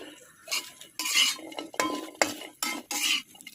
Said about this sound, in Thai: คั่วให้หอมครับ